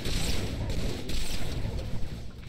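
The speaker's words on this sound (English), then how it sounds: "Nade! That was a good throw." A grenade explodes in Halo 3 as a dense, rumbling blast that fills the short stretch, loud and booming with crackling debris and distant gunfire-like pops.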